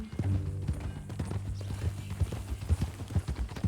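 Hooves of a horse in the video game Red Dead Redemption 2 clip-clop at a steady walking pace, close and distinct, with a low rumbling background and no speech.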